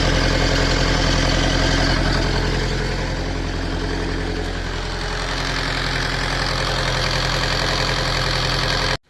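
Tata Safari 2.2 turbo diesel engine idling close by, a steady, even rumble with a dense low drone that holds for the whole stretch before stopping abruptly at the end.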